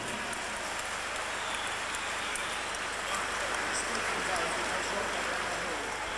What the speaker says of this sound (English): I think Birgitte earns a round of applause for this gesture.